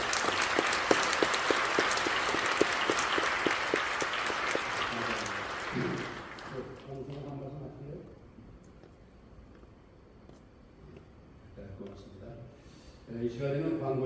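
Applause from a church assembly audience fills a large hall, dense and steady for several seconds before fading out into a speaker's amplified voice.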